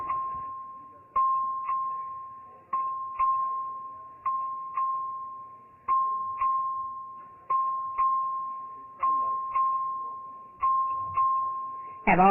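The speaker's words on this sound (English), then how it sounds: "The clerk will ring the bell." A legislative chamber's voting bell, rung by the clerk as a series of clear, ringing single and paired strikes at irregular intervals, each decaying slowly, with faint room noise between and a brief voice at the very end.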